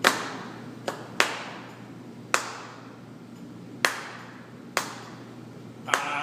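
Audience members in a music lesson clap a syncopated rhythm against a metronome, producing sharp, unevenly spaced claps, some close together and some after longer gaps, over a quiet room.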